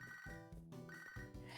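Electronic phone ringtone in the Pokemon Sacred Gold video game, a short repeating chiptune ring pattern, faint and heard alone.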